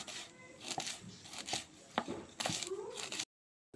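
Green amaranth (cheera) leaves being chopped with a knife, several separate crisp cuts in an uneven rhythm, fairly quiet and close, followed by a short silence at the end.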